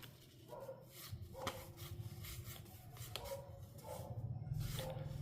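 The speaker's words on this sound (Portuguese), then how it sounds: "Começou a latir um cachorrinho no fim da rua" Small dog yapping down at the far end of a street, faint and distant, with a handful of short sharp barks scattered across a few seconds over a quiet room.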